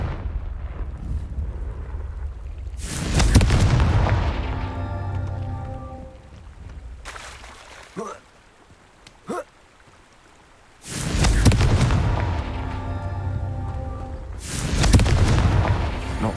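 Confringo blasting spells go off in Hogwarts Legacy, giving two heavy booming explosions several seconds apart with rumbling tails, plus a few sharp small cracks during a quieter stretch between them.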